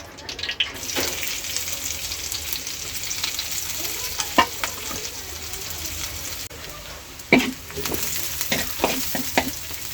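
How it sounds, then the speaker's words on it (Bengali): Chopped onions fry in hot oil, the first step of a crispy jackfruit-seed fry, with a loud, steady sizzle broken by sharp clatters of a spatula stirring and scraping the pan. "প্রথমে কাঁঠালের বিচি রান্না করার জন্য আমি তেল দিয়ে নিচ্ছি। এরপরে আমি দিয়ে দিচ্ছি পেঁয়াজ কুচি।"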